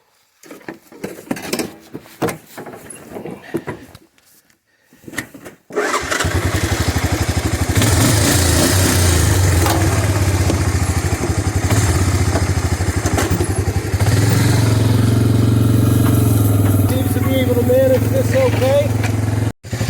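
A Honda Big Red utility vehicle pulling a log trailer starts after some clattering and thumping, then drives off with a steady, loud engine drone that continues to the end.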